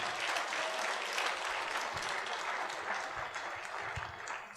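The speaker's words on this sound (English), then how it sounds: "If I'm talking to you, clap for Jesus." A church congregation claps for Jesus during a sermon, a dense steady wash of clapping lasting the whole stretch, with only faint voices beneath.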